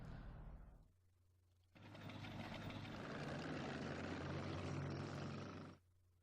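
A WWII-era Japanese propeller aircraft in a Pacific war video game roars in after a brief lull, a broad sustained engine drone holding loud for several seconds before cutting off abruptly.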